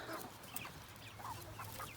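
Young turkeys peeping and chirping in a noisy farmyard, short high calls scattered over a steady background hum.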